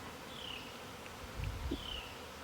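A swarm of honeybees in a backyard apiary, a faint, thin buzzing drone rising and falling as individual bees pass nearby, heard from a short distance.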